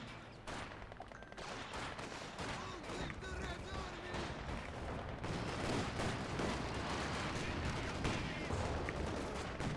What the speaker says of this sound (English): AT gun and rifles managed to push back the Panzer II